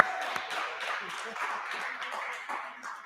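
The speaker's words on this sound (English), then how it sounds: "Give yourselves a nice round of applause." A Grade 10 maths workshop audience applauds with a steady wash of scattered hand claps and crowd murmur that lasts the whole stretch without fading.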